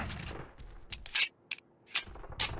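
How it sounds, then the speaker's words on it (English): Shotgun fire from the Call of Duty DS video game comes as a few sharp, bright blasts spaced irregularly through a couple of seconds, with fainter scraping noises in between. "Now that was a shotgun."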